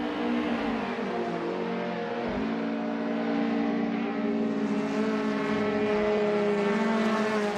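A 2015 Porsche 718 Cayman GT4 engine in a racing video game, holding a steady, loud, droning tone with slight pitch shifts as it cruises.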